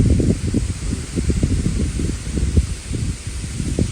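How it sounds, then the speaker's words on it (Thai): Wind gusts steadily through leaves outdoors in a continuous rustling roar with uneven surges and buffeting low rumble, fairly close and loud. "พี่ฟังเสียงลมนะ"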